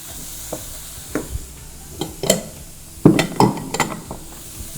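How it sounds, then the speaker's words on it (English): Lean mincemeat frying in a pan for lasagna sauce: a utensil stirs and taps against the pan in irregular clinks over a low, steady sizzle, close up and moderately loud. "I'm actually going to add in my lean mincemeat"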